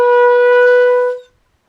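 A single sustained brass B played on slow air, steady and loud for about a second before the pitch bends slightly upward and the note cuts off, leaving silence.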